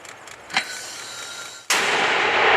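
An artillery gun fires at a front-line position: a sharp, loud blast cracks out near the end, following a quieter faint thump earlier, then a sustained roar of noise lingers after the report.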